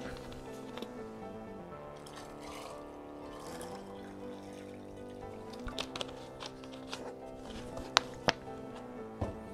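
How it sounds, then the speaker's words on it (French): Sparkling water poured into a mojito cocktail, a soft fizzing pour buried under steady background music, with a few sharp clinks near the end. "Et on complète toujours avec de l'eau gazeuse."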